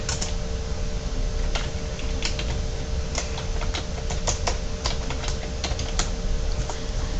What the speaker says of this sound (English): And then I'll type my message here.